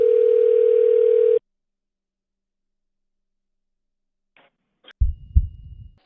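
A telephone dial tone drones steadily for over a second on a call to a coin shop, then cuts off into silence before a few faint clicks and bumps of handling noise.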